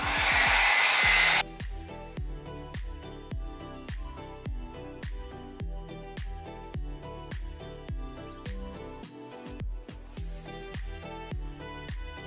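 A MermadeHair blow dry brush runs with a loud, steady airflow roar, then settles into a lower hum broken by regular rhythmic pulses as it is worked through hair.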